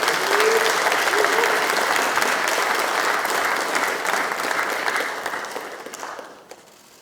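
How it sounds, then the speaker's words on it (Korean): A room of party lawmakers at a caucus meeting gives sustained applause welcoming their presidential candidate. The dense, even clapping holds steady for several seconds, then thins and fades out near the end. "환영과 격려의 박수 부탁드립니다."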